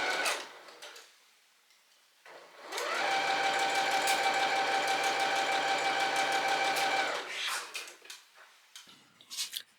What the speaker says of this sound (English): now the last thing to do is to sew it into the bodice